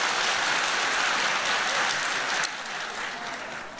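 Applause from a church congregation during an Easter Sunday service, dense and steady for a few seconds, then dropping a little in level and tapering off.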